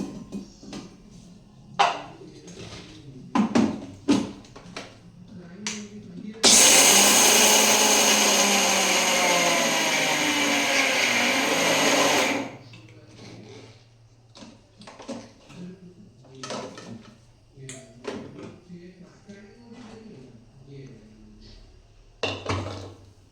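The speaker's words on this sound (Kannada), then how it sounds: "ನಾ ಶೇಂಗಾ ಮಿಕ್ಸಿ ಒಳಗೆ ಹಾಕೊಳತ್ತೇನೆ ಈಗ" A mixer grinder grinds peanuts in one loud, steady whirring burst lasting about six seconds, preceded and followed by quieter knocks and clatter of handling the jar.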